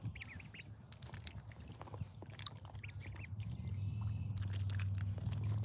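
Ducklings on a homestead quacking and peeping in repeated short bursts, fairly close, over a steady low hum that grows louder toward the end.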